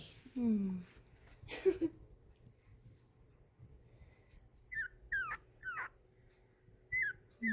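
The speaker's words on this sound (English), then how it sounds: "So, yeah, they found their voices. They're whining and growling." Two-week-old puppies whine and growl in short, faint bursts, with high rising whimpers scattered among brief pauses and a soft hum beneath.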